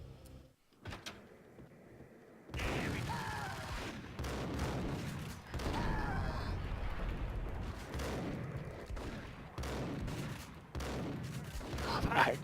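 Shotgun blasts and gunfire from the Max Payne video game, coming as a string of loud, close bursts with clatter and scraping between them over about twelve seconds, with no speech.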